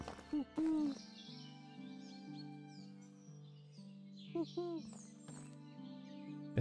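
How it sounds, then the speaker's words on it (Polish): Owl-like hooting in the medieval survival game Medieval Dynasty: two short bursts of hoots early and two more midway, over a steady droning music bed with faint bird chirps above. "Co najgorsze, że ja słyszę tą sowę."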